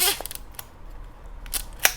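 Cocking the shutter of a vintage 1950s camera trimmed in green leather by giving a quick twist to the left: a few crisp, close mechanical clicks separated by short quiet gaps.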